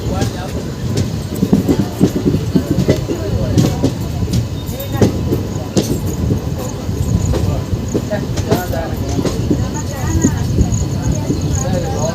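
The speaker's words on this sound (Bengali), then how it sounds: "ট্রেন ছেড়ে দিল আমাদের কুড়িদারোড জংশন, পরবর্তী স্টেশন মালাকিপাতলা।" Passenger train pulling out of Khurda Road junction toward Puri, a steady rumble of rolling wheels and carriage rattle running throughout at close range, with people talking over it.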